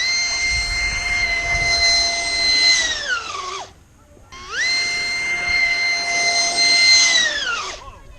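3D printed fan-driven hydroplane model with its propeller fan at full throttle, two loud whining runs each holding a steady high pitch before sliding down as the fan slows, separated by a short gap.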